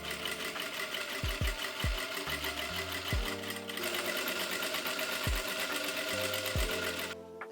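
Sewing machine runs steadily, stitching vertical seams joining fabric panels of a lace-up top, a continuous close mechanical whir with small thumps as the fabric is fed, and no talking.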